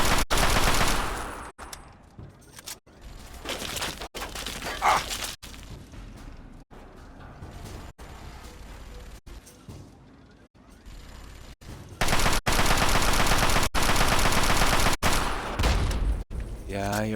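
Enemy gunfire in the Fallout 3 video game, dense loud bursts of rapid automatic shots at the start and again near the end, with quieter scattered firing and game noise between.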